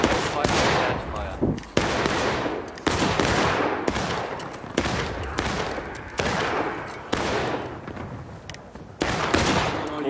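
Musket volleys crack out in the Civil War video game War of Rights, loud ragged rolls of gunfire repeating roughly every second or two, with faint voices beneath.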